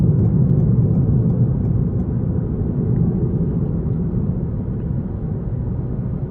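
Steady low road and engine rumble inside a 2021 Toyota Corolla Hatchback XSE cruising smoothly, a continuous muted drone at constant level with no talk.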